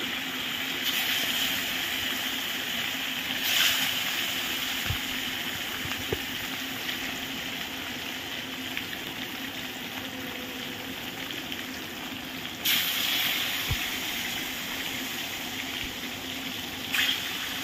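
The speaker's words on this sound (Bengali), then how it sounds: "এখন মাছটা ভালো করে ভেজে নেওয়া" Katla fish pieces frying in hot oil with a little turmeric make a steady, dense sizzling hiss that carries on without a break, swelling briefly a couple of times.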